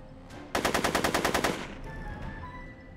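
Gunfire in the Back to the Future video game: a rapid burst of about a dozen loud, evenly spaced shots lasting roughly a second, followed by fading ringing tones, with no speech.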